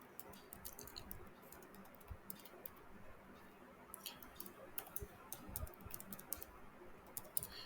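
Soft keystrokes on a computer keyboard tap out an email address, a quiet, uneven patter of clicks close by in a still room with no voice over them.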